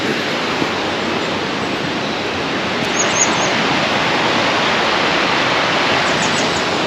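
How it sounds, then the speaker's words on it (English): Waterfall beside the Sawmill Cafe near Clapham: a loud, steady roar of falling water filling the whole clip, with faint bird calls above it. "it's worthwhile just having a look at this waterfall as well"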